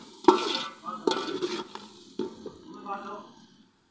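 Onions browning in a pot on a stovetop while chicken rice is being made, with soft sizzling and a few sharp stirring scrapes and clinks against the pot at close range.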